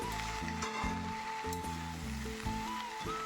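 Chopped ash gourd stirred while cooking in a pan gives a steady, close sizzle that carries on under background music with a melodic line.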